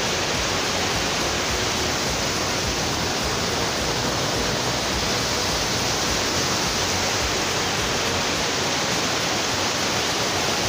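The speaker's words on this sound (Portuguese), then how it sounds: "E aí está a Cachoeira Véu da Noiva" Véu da Noiva waterfall near Capivari in Campos do Jordão, Brazil, roaring as a steady, dense wash of falling water that stays loud and even throughout, with no voices.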